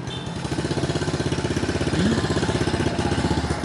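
A custom Honda Monkey motorcycle, built from a Honda Kharisma, runs in first gear close by. Its small engine beats in a steady, rapid pulse that swells slightly partway through, and there is no talk.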